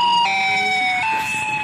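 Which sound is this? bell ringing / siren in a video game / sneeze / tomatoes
siren in a video game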